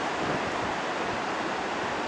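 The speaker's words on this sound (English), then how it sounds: "I want you to check out these waves." Pacific Ocean surf on the Oregon coast near Lincoln City, a steady broadband roar of breaking waves mixed with wind noise, continuous and fairly loud with no voices.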